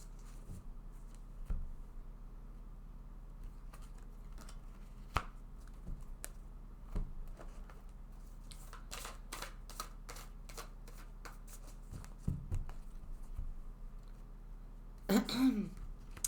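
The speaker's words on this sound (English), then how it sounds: "let's take a card from each of these oracle decks" Cards are drawn from oracle decks in a quiet room with soft sliding and flicking, then a rapid run of crisp riffles and a final louder shuffle. Some faint talk can be heard.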